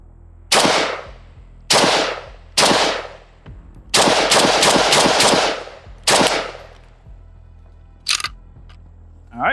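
AK rifle fitted with a GPN flash hider firing outdoors: loud, close sharp shots, singles then a rapid burst of five, followed by more single shots.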